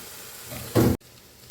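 Chicken fried rice with a splash of dark soy sauce in a hot pan, restaurant style: a short, loud burst of sizzling that flares up and cuts off abruptly over a faint background hiss.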